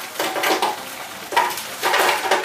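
Frozen strawberries are dropped into a container in three hard, clattering bursts with brief pauses between them, close by and with no talking.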